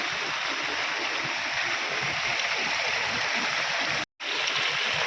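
Water pouring and rushing at a new dam in the rainy season, a loud continuous roar filling the scene with only a momentary dropout.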